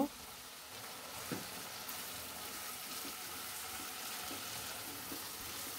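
Chicken pieces with soy sauce, tomato sauce, ginger and garlic paste fry in a pan for spicy chicken pasta, giving a faint, steady sizzling hiss with an occasional soft stirring scrape.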